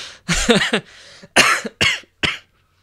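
Several sharp coughs in quick bursts, close and loud, separated by brief pauses.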